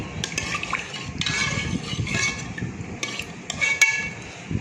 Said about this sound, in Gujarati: તો હવે આપણે આમાં દાળ નાખી દઈએ.